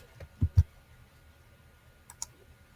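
Two quick computer mouse clicks land close together near the start, followed by a pair of fainter clicks a moment later, in a quiet room with no voices.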